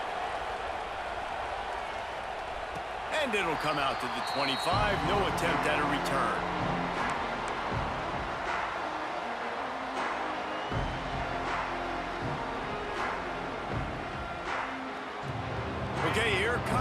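Stadium crowd noise rumbles and swells throughout a college football kickoff between Ohio State and LSU in NCAA Football 26, a steady game-crowd roar with brief cheers beneath continuous play-by-play commentary.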